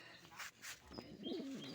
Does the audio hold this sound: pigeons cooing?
yes